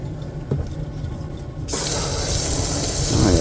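Water gushes from a tap at an outdoor fish-cleaning station in a state park, a loud steady rush that starts abruptly partway through and runs continuously to the end.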